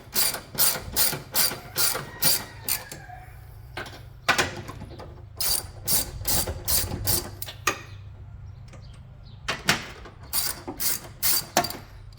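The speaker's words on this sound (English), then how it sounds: "So once we get those 3 loose" A ratchet loosens the engine mount bracket bolts on a 2008 Ford Focus in rhythmic bursts of sharp clicking strokes, separated by short pauses, close and moderately loud.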